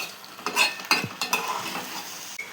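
Macaroni pasta with salt being stirred in a pan, a series of close spoon scrapes and clinks in irregular bursts over a faint sizzle.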